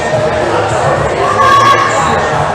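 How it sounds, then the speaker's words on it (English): Crowd noise from spectators encouraging competitors at a provincial top rope climbing final, a steady murmur of voices and cheers that fills the space throughout, with a rising swell near the middle. "Lucas getting some encouragement from the crowd."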